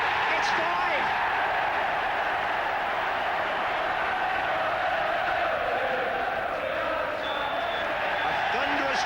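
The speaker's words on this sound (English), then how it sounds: "A thunderous cheer for another championship performance from Liverpool." Football stadium crowd roaring after a Liverpool goal during a championship-winning season, a dense, sustained cheer filling the whole clip with steady loudness and no individual voices standing out.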